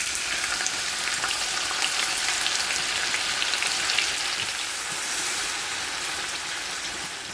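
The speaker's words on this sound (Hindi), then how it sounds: "अब इसमें हम डालेंगे प्याज।" Onions sizzle and fry in hot oil with whole white cumin seeds for Kabuli pulao, a steady, close, dense crackling hiss that holds evenly throughout with no talking.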